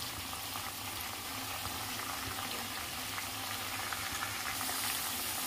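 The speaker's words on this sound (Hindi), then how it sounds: "हमें अपने कॉर्न को ध्यान से फ्राई करना है" Corn kernels deep frying in hot oil for a crispy corn dish, giving a steady, even bubbling sizzle close by with no talking throughout.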